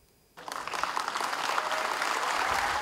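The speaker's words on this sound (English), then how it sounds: "The winners get a big round of applause for their hard work" Steady applause from an audience honouring toilet design competition winners in Bhutan, starting abruptly and swelling into a dense, continuous patter that holds to the end.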